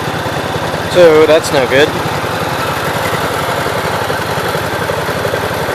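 An old tractor engine idles with a steady, even rumble and chug, close and constant, as someone speaks briefly over it near the start.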